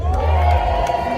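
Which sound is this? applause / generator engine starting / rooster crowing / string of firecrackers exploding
applause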